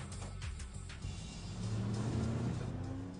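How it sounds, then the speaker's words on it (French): A Peugeot 206 driving with its lights off speeds away from gendarmes in a night pursuit, its engine rising into a steady, fairly loud revving drone. "La voiture tente d'échapper au contrôle."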